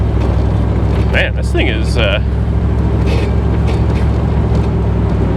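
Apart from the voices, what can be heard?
1975 Bricklin SV-1 car driving and accelerating in snow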